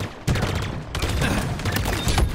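Bursts of carbine fire crackle in quick succession in Halo Infinite multiplayer, loud rapid shots layered over chaotic battle noise.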